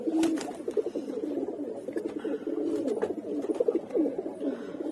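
China Khaki pigeons, an old and now rare breed, coo continuously in a low, rolling murmur from a loft flock, steady and close with no talk over it.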